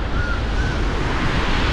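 Strong storm surf at Divnomorskoye on the Black Sea coast, a continuous loud broadband roar of breaking waves with wind buffeting the microphone, no voices.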